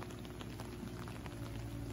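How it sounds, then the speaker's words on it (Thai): Rain falling outdoors during excavator work, a continuous soft hiss of patter that stays even and fairly faint throughout. "ฝนเปียกหมดแล้ว"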